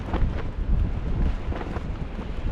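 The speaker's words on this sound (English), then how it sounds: "So these rod tips are banging around, but it's the wind." Strong gusting wind buffets the microphone at a sea fishing spot on the Humber estuary, with gusts of 26 to 30 mph. It makes a continuous close, low rumbling roar that surges and eases throughout, with no talking.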